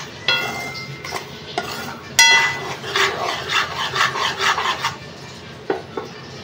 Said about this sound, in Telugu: ఉప్మా రవ్వ పెట్టుకొని మంచిగా దూరగా లో ఫ్లేమ్లో వేయించుకుందాము